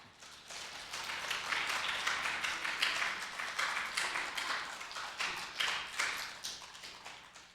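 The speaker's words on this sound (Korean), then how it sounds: "우리 두 분 잠깐 나오셔서 전해드릴 때 여러분들 박수로 좀 축복해 주시기 바랍니다" A church congregation applauding during a Sunday worship service, with steady, even clapping from many hands filling the room at moderate volume without a break.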